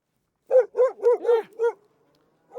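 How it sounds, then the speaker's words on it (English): Friendly dog outdoors by the road giving five quick, clear barks in a steady run, then one more after a short pause, with no talk over them. "we got a doggy coming out here"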